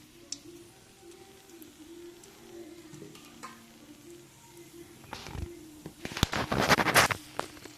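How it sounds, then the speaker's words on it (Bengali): Whole garam masala of cinnamon, cloves and cardamom hits hot oil for a Bengali fish kalia, starting with quiet crackles and building into a loud, close burst of sizzling spatter near the end. "তেলটা গরম হয়ে গেলে এখানে দিয়ে দেবো ফোড়নের জন্য গোটা গরম মশলা দারচিনি লবঙ্গ এলাচ"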